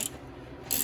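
A socket ratchet turning on a brake bleeder of a 1994 Jeep YJ gives off a short, quiet, close burst of dry clicking.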